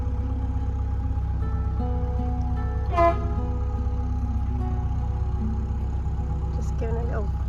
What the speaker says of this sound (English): Giving a little warning honk to that guy rowing just there